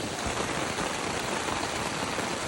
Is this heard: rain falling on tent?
yes